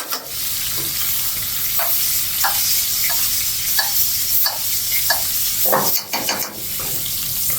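Steak sizzles loudly in a pan of brown butter sauce on a restaurant line, a dense continuous crackle broken by a few sharper scrapes and clinks near the end, with no voices.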